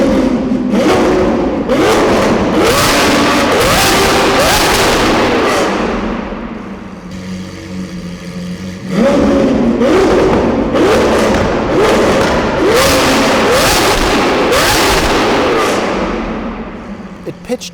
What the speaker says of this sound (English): So in order to see just how loud this car is, we're going to make use of a decibelometer.